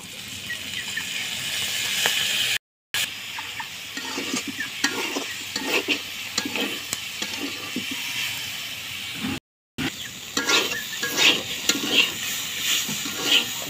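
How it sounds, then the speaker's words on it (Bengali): Boiled lentil pods fry in oil in a pan, with a constant hiss and crackle, scraping stirs and clinks of a utensil against the pot close up. "এখন তেল দিয়ে ভেজে নেব।"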